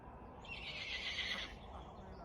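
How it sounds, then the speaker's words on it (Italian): A horse whinnies at a moderate distance, a single drawn-out high call lasting about a second over a steady rustling background. "Cavallo! Senti?"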